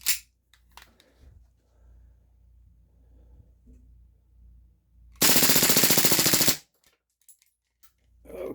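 A Crosman AK1 airgun is racked with a few sharp clicks and clacks, then fires a loud, rapid full-auto burst lasting over a second, followed by more faint handling clicks.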